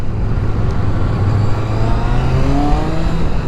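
A motorcycle at a large South Cornwall bike meet roaring close by as it leans and rides past, engine note loud and steady with a rising whine toward the end.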